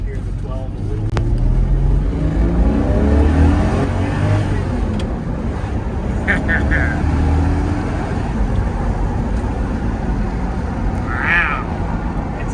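Ferrari Testarossa flat-12 engine droning steadily from inside the cabin on the road, a low continuous rumble with rising and falling harmonics, talk heard over it.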